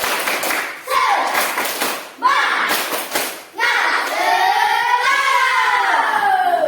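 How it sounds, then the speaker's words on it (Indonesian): Students doing tepuk semangat, a rhythmic spirit clap, in several short bursts of loud clapping with chanting voices between them and then a long stretch of sung or chanted voices. "Tepuk semangat"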